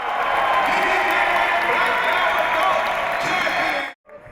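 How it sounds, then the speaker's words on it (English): A crowd of Gracie Barra fans cheers and applauds at the 2012 World Jiu-Jitsu Championships, a loud, dense roar under a commentator's voice that cuts off abruptly near the end. "the Gracie Barra fans cheer and welcome back the old Romulo"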